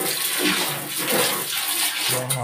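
A shower runs in the bathroom of a transient house near Baguio City, a loud steady hiss of spraying water filling the space, close and continuous.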